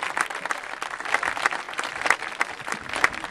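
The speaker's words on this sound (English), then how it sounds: "One more round of applause for the Glenbrook North High School Spartan Marching Band." Crowd applause for a high school marching band at a band competition, a dense, lively clatter of many hands with sharper individual claps popping out, steady throughout with no talk.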